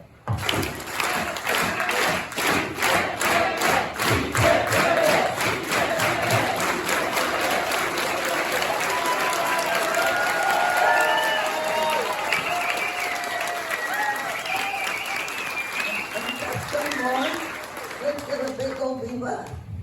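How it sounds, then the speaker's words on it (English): A rally crowd claps in an organized, rhythmic hand clap, sharp regular beats running for most of the stretch, with cheering and voices mixed in. "Let's do it with an organized hand clap."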